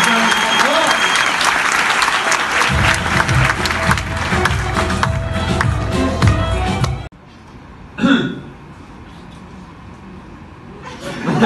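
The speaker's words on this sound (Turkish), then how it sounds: "Altyapıya bir alkış." Studio audience at a comedy sketch show clapping loudly and densely for the backing team, with a deep rumble underneath, then the applause cuts off abruptly and a quieter room follows with a brief sound and talk.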